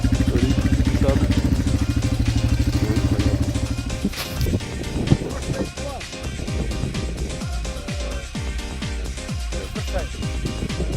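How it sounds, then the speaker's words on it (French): Quad bike riding on sand, a loud steady engine drone that gives way to rough clattering and bumping as it moves, close throughout. "Petit tour de quad."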